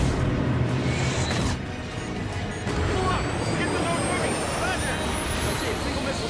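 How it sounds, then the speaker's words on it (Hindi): An F-35 fighter jet maneuvers hard while evading a missile fired by an air defense system. It makes a loud, continuous roaring rush with a faint rising whine throughout. "देखिए कैसे दुनिया के सबसे एडवांस विमानों में से एक F-35 इस शानदार एयर डिफेंस सिस्टम से बचने की कोशिश कर रहा है।"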